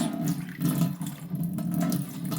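Water drains off cracked green olives as brine is poured out, a continuous gushing, splashing flow heard close and fairly loud for the full stretch.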